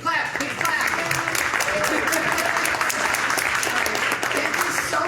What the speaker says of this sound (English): Big clap, big clap.